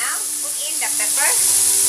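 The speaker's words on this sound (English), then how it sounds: "Let it fry for a while." Bitter gourd (ampalaya) seasoned with salt and pepper fries in a pan, giving a loud, steady sizzle and hiss with a few brief stirring scrapes partway through.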